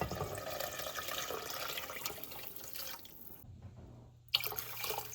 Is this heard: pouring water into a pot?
yes